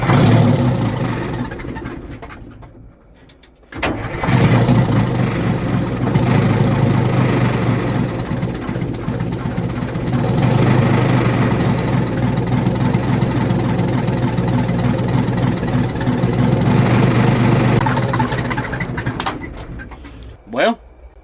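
A Detroit Diesel engine running and idling, a loud, steady mechanical drone with a brief dip early on before it resumes and holds, ending with a short knock.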